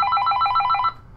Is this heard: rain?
no